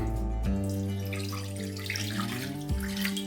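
Water runs from a tap into a pan, about one and a half cups measured out for modak dough, and its pitch climbs steadily as the vessel fills. The filling is continuous and close, with no talking.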